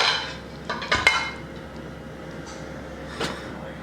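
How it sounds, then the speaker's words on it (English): A crock pot lid set back onto the pot after meatballs in grape jelly and BBQ sauce, giving a couple of close clinking clatters in a quick cluster, then one lighter clink a few seconds later over quiet kitchen hum. "Now I'll put the lid back on."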